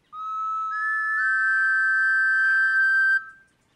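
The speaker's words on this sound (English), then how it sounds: "right, our dino whistles." A cartoon dino whistle is blown in one long, clear, rising tone that steps up in pitch and holds steady for about three seconds before cutting off, loud and alone.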